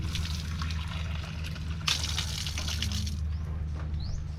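Cold water runs steadily from a tap or spout at a roadside stopover in the Philippines, a continuous close splashing trickle over a low engine-like hum.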